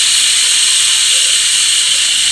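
A pressure cooker cooking mutton dalcha lets off a loud, steady hiss of escaping steam, a continuous close rush that holds evenly from start to finish with no talking.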